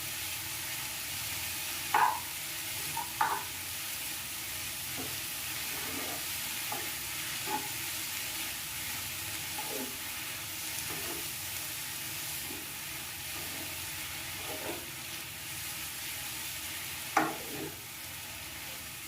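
Boiled drumstick flowers and potatoes sizzle steadily in a pan while being stir-fried, with soft scraping and clinks from a spatula stirring them now and then. The frying stays continuous and fairly quiet, and no one speaks over it.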